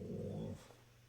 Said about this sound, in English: Sorry, guys, my dog.